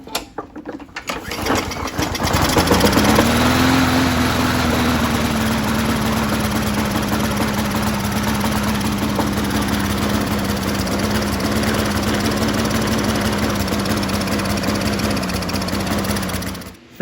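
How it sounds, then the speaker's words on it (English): A Bolens lawn mower's small gasoline engine cranks briefly, then catches and runs at a steady, loud drone close by, holding an even pitch with no talking over it. "Let's see if it starts."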